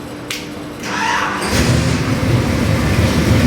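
A 540 cubic inch big block Chevy crate engine in a 1967 Chevelle cranks and fires, settling into a loud, steady low rumble close by.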